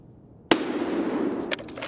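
A gunshot in the video game Escape from Tarkov: one sharp, loud crack that rings out and decays, followed by a second fainter snap near the end.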